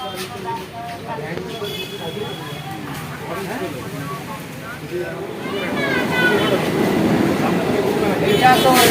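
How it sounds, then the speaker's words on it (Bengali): A train pulls into Chandannagar station on a rainy day, a low rumble that grows louder and nearer, ending with brake squeals, under the murmur of a crowded platform and people talking. "এখন ট্রেন চলে এসছে"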